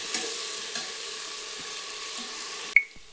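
Ginger-garlic paste sautéing in a pan, a steady soft sizzle with faint stirring scrapes throughout, cut off near the end by a short sharp metallic clink.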